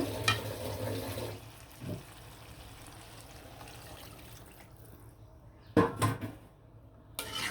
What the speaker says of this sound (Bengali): আর এখন পরিমাণ মতো পানি দিয়ে দিব